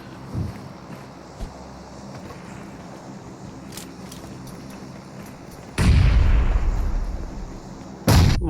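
A video game firefight: a few scattered gunshots, then a loud grenade explosion with a long rumbling tail and a second blast right after, all close and heavy.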